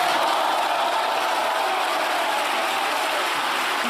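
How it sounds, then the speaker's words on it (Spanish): Deputies in the plenary chamber of the Spanish Congress applaud in a dense, sustained clatter of clapping that holds steady and loud throughout. "Durante varios minutos se escucharon sin cesar los aplausos en el Pleno del Congreso de los Diputados de España."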